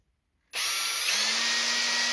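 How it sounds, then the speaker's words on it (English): A power drill starts abruptly and runs at a steady high whine, close and loud, pilot drilling into wood with a slight pitch shift. "And then I'm just going to quickly pilot drill that."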